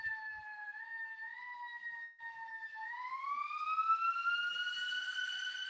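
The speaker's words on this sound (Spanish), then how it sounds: "como ustedes ven, la policía o la ambulancia" A police car or ambulance siren passes outside, a wailing two-tone sweep that rises and swells louder as it nears, heard at a distance over an otherwise quiet room with no talking.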